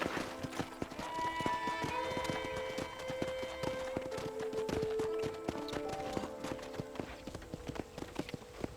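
Rhythmic hoofbeats clatter steadily throughout as a horse moves along in Red Dead Redemption, with light melodic music playing underneath and no talking.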